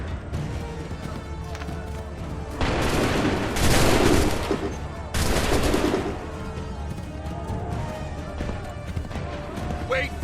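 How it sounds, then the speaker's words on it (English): Massed musket volleys in Assassin's Creed 3 crack out in two loud, broad bursts amid continuous battlefield noise and hooves, with shouted commands heard between the volleys. "Make ready. Prepare yourselves. Fire!"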